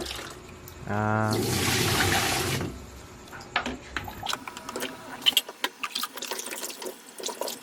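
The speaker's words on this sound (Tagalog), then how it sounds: "Hugasan po pala natin ito ng dalawang beses lang." Raw chicken for adobo is rinsed under a running tap: a short gush of water streams steadily for under two seconds, followed by scattered wet clatter and light knocks as the pieces are handled.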